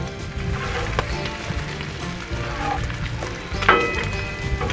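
Cinnamon rolls cooking on a hot Blackstone flat-top griddle, a steady broad sizzle that swells briefly with a few scraping touches, close and fairly loud with no talking.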